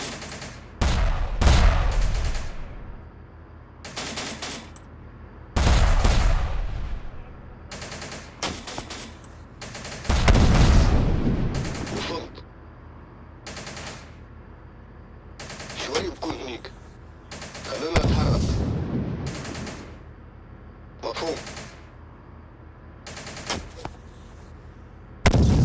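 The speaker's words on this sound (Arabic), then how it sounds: "علينا رصاص." Gunfire in the video game Syrian Warfare comes in repeated bursts of sharp shots and rattling automatic fire, separated by quieter gaps, with occasional talk in between.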